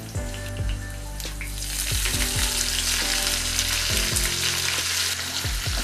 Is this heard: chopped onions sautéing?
yes